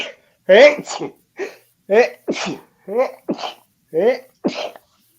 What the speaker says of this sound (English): 5 sneezes.